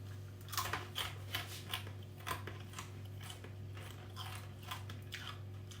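Crunchy honeycomb cinder toffee being bitten and chewed close up, a run of soft, irregular crunches over a steady low hum, with no talking.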